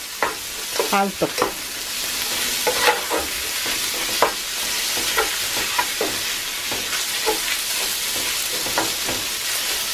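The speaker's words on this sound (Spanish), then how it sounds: "agregamos lo que es la carne. Y aquí la vamos a dorar pues a nuestro gusto" Beef browning over high heat in a pan for Chinese-style beef with broccoli, a steady loud sizzle and crackle with repeated scraping stirs of a utensil, and a brief word spoken once.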